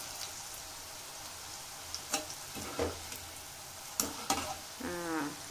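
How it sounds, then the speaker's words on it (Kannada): Quiet, steady frying hiss from a pan, broken by a few sharp clinks and scrapes of stirring, with a short voice at the end. "ಫ್ರೈ ಆಗ್ತಾ ಇದೆ, ಇನ್ನೂ ಆಗಲಿ."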